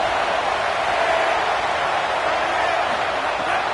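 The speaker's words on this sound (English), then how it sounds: "The Buckeye crowd alive on third down." A stadium crowd in a college football video game roars steadily as a dense, loud wash of cheering noise with no breaks, sustained throughout.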